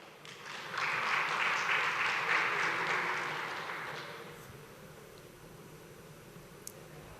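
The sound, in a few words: applause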